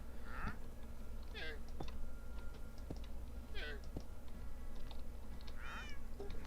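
A cat meows several times indoors, short rising and falling calls spaced a second or so apart, moderately faint over a low steady hum with occasional soft clicks.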